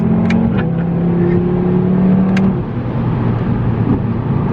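An Audi TT RS five-cylinder engine revs up and holds a throaty, rising drone, then eases off; loud and close, with no talking.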